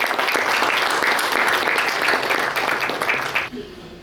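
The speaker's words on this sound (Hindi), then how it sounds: "तालियों से स्वागत करें।" An indoor audience at a talk gives a speaker a welcoming round of applause, loud and steady, then it cuts off abruptly near the end.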